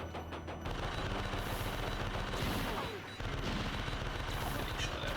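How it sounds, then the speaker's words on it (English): Rapid machine gun fire in the arcade game Elevator Action Returns, a dense stream of repeated shots continuing almost without a break over game music and effects, loud and close. "I'll take the machine gun this time so I can show that off."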